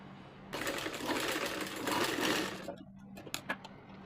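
A sewing machine stitches a zipper pouch in a steady, fast, close-up whirring run of about two seconds, then stops, followed by a few sharp clicks and taps.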